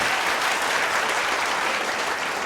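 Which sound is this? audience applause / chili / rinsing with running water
audience applause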